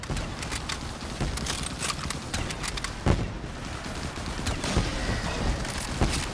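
Sustained machine gun fire in Black Ops 3 Zombies gun game mode, a continuous crackling stream of rapid shots with a few sharper louder bursts, steady and close throughout.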